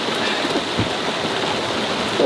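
Heavy rain pelts a 40 ft sailing boat in strong 25-knot wind, a steady broadband hiss of drops drumming on deck and canvas, loud and continuous with no break.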